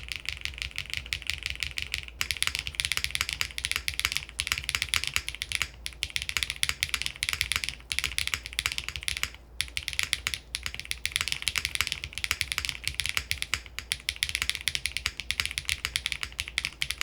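Continuous rapid typing on an Eave65 mechanical keyboard with SWG Keys stabilizers, close and steady, with muted, slightly soft, foamy clacks and brief pauses.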